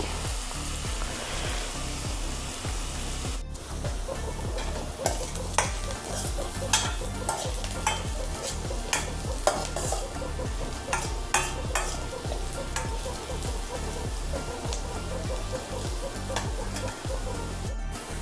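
Onions frying in a pan for a South Indian Konkani-style crab curry, stirred steadily so a dense sizzle runs throughout, punctuated by frequent scraping strokes of the spoon against the pan, close and loud with no talking.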